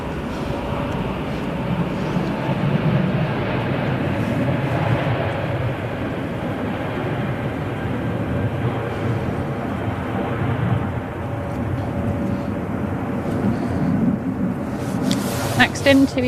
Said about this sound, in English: So here's the company of the last arriving aircraft departing.